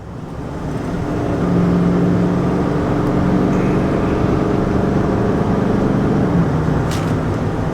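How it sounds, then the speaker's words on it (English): A Gen 2 L5P diesel pickup with a Banks Ram Air cold air intake accelerates at wide open throttle from 60 to 70 while towing, a steady loud drone and road roar heard from inside the cab, building slightly and holding. "let's go ahead and do a 60 to 70 wide open throttle now"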